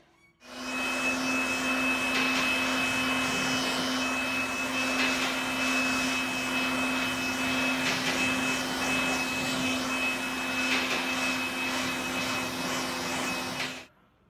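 Car hood being rinsed thoroughly with water during a wet coat detailing job, a steady loud spray hiss with a constant whining pump tone underneath, continuous and alone without talk.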